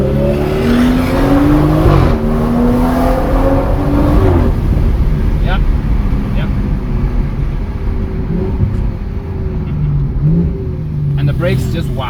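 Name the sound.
BMW M240i accelerating with quick gear shifts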